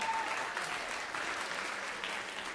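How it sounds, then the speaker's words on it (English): Steady audience applause at a middle and high school music recital, a continuous wash of clapping hands lasting a few seconds with no talking over it. "now you may clap for him."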